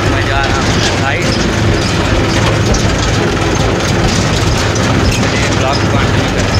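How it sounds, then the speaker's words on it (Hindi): A tractor driven along toward a farm field, its heavy engine rumbling loud and steady up close throughout, with a voice talking over the noise. "ये मैं ट्रैक्टर चला रहा हूँ और जा रहा हूँ खेत"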